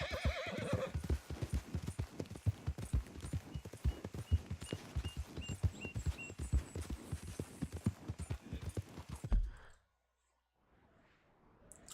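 A horse in a video game walks with rhythmic clip-clop hooves and lets out a neigh near the start, steady and close, before cutting to near silence at the end.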